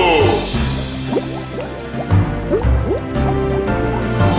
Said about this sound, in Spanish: Chapotea el agua